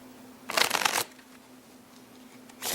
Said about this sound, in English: give them a riffle shuffle like that